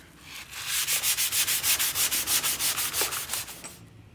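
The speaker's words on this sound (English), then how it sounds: "I'm going to clean this before I start folding it. Just a piece of sanding sponge." Steady rhythmic back-and-forth scrubbing of a sanding sponge cleaning sheet metal before folding, close and fairly loud, about a dozen strokes in quick succession.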